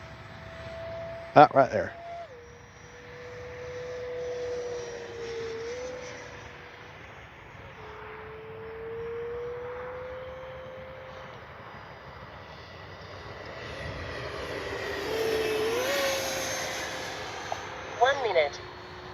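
Freewing 70mm F9F-5 Panther RC model jet climbing away, a steady ducted-fan whine that drifts in pitch and swells louder near the end, with brief talk and clicks at the start and close.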